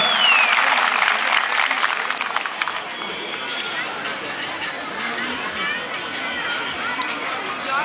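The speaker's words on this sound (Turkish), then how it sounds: "Ben sizlerden Aliço, Adalı, Koca Yusuf, Kurt Dereler'in torunlarına bir bana alkış istiyorum." An outdoor crowd claps at a Turkish oil wrestling festival in Domaniç, with the applause strongest at the start and then thinning under ongoing announcer talk and crowd chatter.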